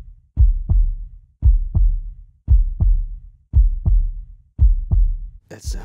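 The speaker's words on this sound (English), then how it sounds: "Listen to the bass of that heartbeat." Heavy, bass-laden heartbeat in the video game Grimvalor, played on iOS: five steady lub-dub double thumps, loud and close with deep low-end, followed by a brief burst of noise at the end.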